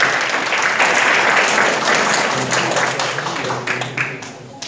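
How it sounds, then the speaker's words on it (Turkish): Audience applause at a taekwondo event of a combat sports club, a dense sustained wash of clapping that stays loud throughout, thinning slightly toward the end. "Evet, büyük alkış"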